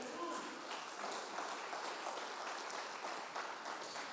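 Congregation clapping for God during an evangelical church service, a dense, even wash of many hands that stays steady and fairly soft throughout.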